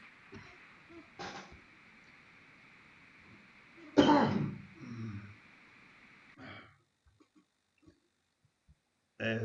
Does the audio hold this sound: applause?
no